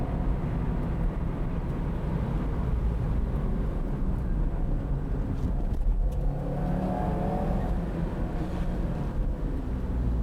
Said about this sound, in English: Calmly stepping on the gas and on the brakes, Solberg is driving very neatly through the course.